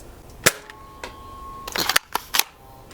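A Nerf Fortnite dual-pack blaster fires a foam dart in an indoor accuracy test: a few sharp, close snapping pops and mechanical clacks, separated by brief pauses, with no talking.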